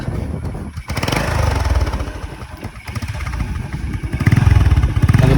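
Motorcycle exhaust pipe fitted with genuine Indo parts: a steady, close engine putter with a low, even rumble that swells into a slight rev near the end, loud, with no talk.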